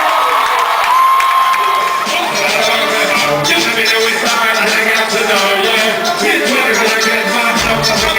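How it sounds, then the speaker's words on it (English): Crowd at a youth night event in Haiti cheers and whoops loudly and without pause, with shouting voices and music-like tones running through the whole stretch. "Applaudissements s'il vous plaît pour Karel Père, s'il vous plaît"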